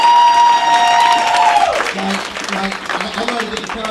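Audience applause and cheering at a live comedy show, loud and close, rising over a sustained tone that fades out partway, with clapping and crowd noise continuing to the end.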